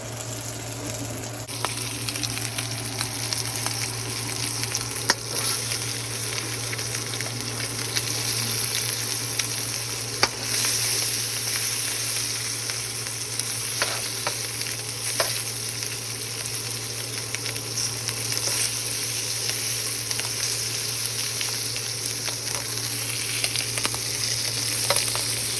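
Breakfast food on a hot skillet, sizzling in a steady loud hiss for a long stretch, with occasional scrapes and taps as the pieces are flipped, no one talking.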